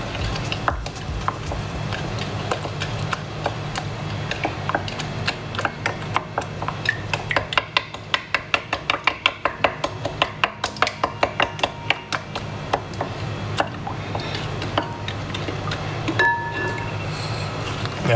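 Portuguese muffin (bolo levedo) dough being stirred in a bowl, a steady run of quick clinking scrapes that speeds into a rhythmic tapping burst before easing back, close and fairly loud with no talk.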